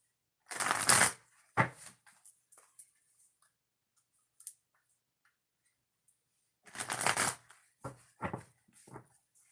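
Two bursts of shuffling a deck of oracle cards, each a quick riffle followed by a few light taps and clicks, with quiet pauses between them.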